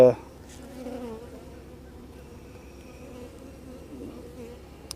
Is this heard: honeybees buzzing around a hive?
yes